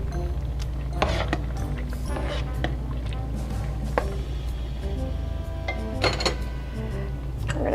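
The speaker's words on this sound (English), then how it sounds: "so we're just going to stir it up a little bit" A spoon scraping and clinking in a pot of pasta sauce, faint irregular knocks and clatter over a low steady hum, close and quiet.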